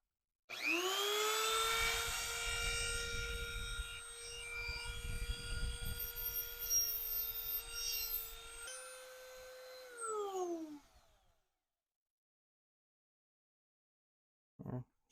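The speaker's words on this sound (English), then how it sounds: "I'll just grind these down real quick." An angle grinder grinding welds flat on metal motorcycle brackets whines loudly at a high steady pitch for about ten seconds, then spins down and stops, followed by silence and a short clunk.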